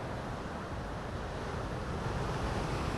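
Sea waves at Digha beach, backed by a casuarina grove, make a continuous, even wash of surf with a dense, unbroken rush and no voices.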